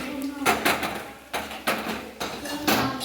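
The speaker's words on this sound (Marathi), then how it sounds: "आता फोडणी देत आहे" Onion hitting hot oil in a pan as the tempering goes in for a Sunday liver fry, heard as several loud, close clattering bursts of pan and utensil noise with sizzling between them.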